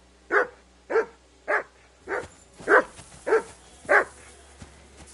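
A dog in the video game Kingdom Come Deliverance 2 barks seven times in an evenly spaced series of sharp, mid-loud woofs, heard alone against a faint low background hum.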